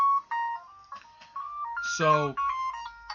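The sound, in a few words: alarm ringtone going off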